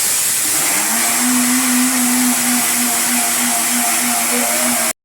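An electric blender grinds spices for mutton curry, a loud, steady high whine running continuously for several seconds before cutting off abruptly, with no talking.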